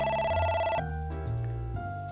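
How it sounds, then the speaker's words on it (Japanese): Electronic telephone ring in the Japanese detective game Jinguji Saburo, a loud steady warbling tone that shifts pitch partway through, heard alone with no talking. "で電話がかかってくるんですね"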